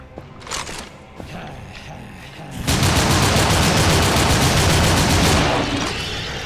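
A flame gun in the shooter game NecroVisioN: Lost Company fires in a loud, dense, continuous roaring burst lasting several seconds, preceded by scattered quieter clicks and game noise.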